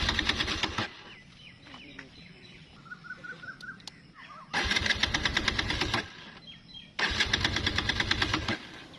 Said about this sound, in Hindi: आपने देखा कि बाइक चोक उठाने से भी स्टार्ट नहीं हो रही